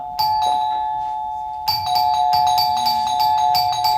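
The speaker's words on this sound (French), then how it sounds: "Oh, mais arrête de jouer avec cette sonnette!" An electronic doorbell rings repeatedly during a puppet show, its bright tone sounding once, then again in quick, insistent succession, close and loud.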